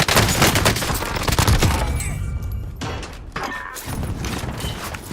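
Rapid video-game gunfire crackles loud and close in bursts, with sharp reports crowding the first seconds before thinning into scattered shots over a busy battle din.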